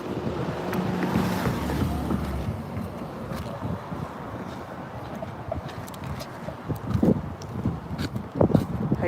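Gusting wind buffets an outdoor microphone on a street in Broadview, giving a low, rough rumble that swells and fades, with sharper thumps toward the end.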